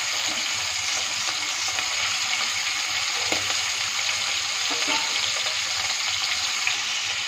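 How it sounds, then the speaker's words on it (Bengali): Prawns rubbed with salt and a little turmeric fry in a pan, giving a steady close sizzle with occasional small stirring clicks throughout. "এখন চিংড়ি মাছগুলোকে ভালো করে একটু ভেজে নেব, হালকা ব্রাউন করে তুলে নেব।"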